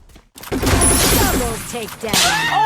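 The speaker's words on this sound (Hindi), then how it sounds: "मैं प्लाज्मा से फायरिंग करने लगता हूँ" Plasma gun fire in the video game Free Fire Max, a loud continuous burst of rapid shots with whooshing energy tones, briefly pausing before another burst.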